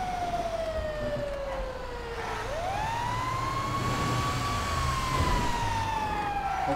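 Police car siren in GTA 5, a loud continuous wail that sweeps down, dips sharply, then rises and holds high, close by over steady traffic rumble with no talk.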